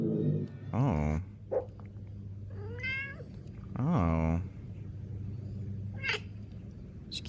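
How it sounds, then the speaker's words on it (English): Several cats meow in a series of loud, drawn-out, wavering calls spaced a few seconds apart, with a brief exclamation from a person between them. "These kitties like watching other kitties doing stuff."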